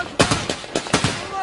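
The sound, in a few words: gunfire in news footage of Syrian rebels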